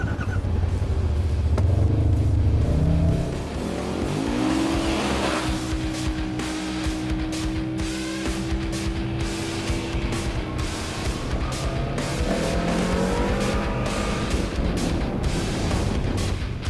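Side-by-side UTVs race, their engines revving hard and rising in pitch as they accelerate, then holding a loud, steady drone with shifting tones throughout.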